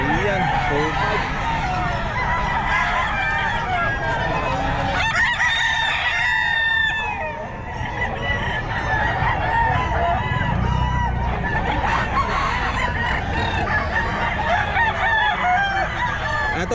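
Sweater gamefowl roosters crow again and again amid clucking at a busy Bocaue pet market, loud overlapping calls close by, while people talk among the stalls.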